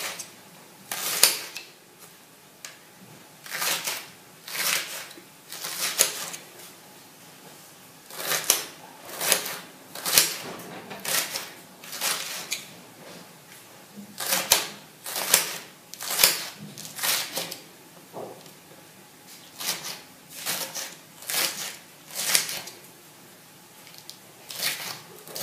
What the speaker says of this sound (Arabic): كنقطوه كنقردوه رقيق. كنقردو هكا رقيق